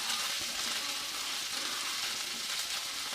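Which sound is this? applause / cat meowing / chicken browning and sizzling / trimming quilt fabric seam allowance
chicken browning and sizzling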